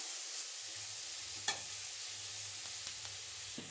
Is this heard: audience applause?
no